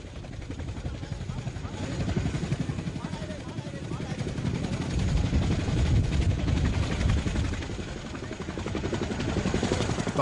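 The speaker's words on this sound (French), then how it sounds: "Elles se sont entassées à plus d'une centaine dans un hélicoptère prévu pour 50 passagers." Helicopter rotor thumping steadily at close range as it carries refugees during the 1975 Battle of Xuan Loc, a continuous loud drone with a voice talking over it.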